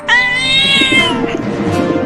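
A single drawn-out cat meow, loud and close, with a rising then falling wail that trails off.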